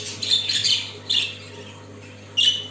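Budgerigar chicks squawk inside a nest box, with three short bursts of harsh, raspy calls close up and no talking.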